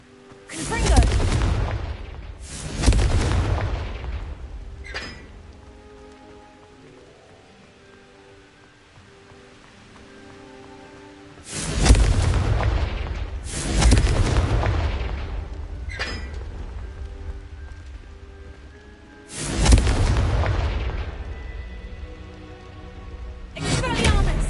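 Confringo fire-spell explosions in Hogwarts Legacy burst out as loud, deep booms, roughly three pairs of blasts spread across the stretch, each followed by a long rumbling tail.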